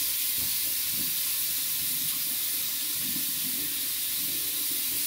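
A sink faucet runs steadily while hands are washed under the stream, a constant close splashing hiss with faint rubbing beneath it and no talking.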